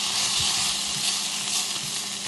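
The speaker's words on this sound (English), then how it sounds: "spinach is sauteing up nicely." Spinach sautés in a Ninja Foodi XL grill with a loud, continuous sizzle and hiss, close up and steady, broken only by faint stirring scrapes.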